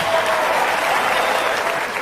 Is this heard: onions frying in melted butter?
no